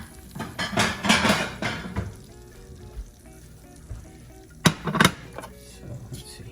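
Restaurant-style prime rib gets set onto a plate with a cluster of clinks and scrapes of utensils against dishware, a lull, then a second brief burst of clatter.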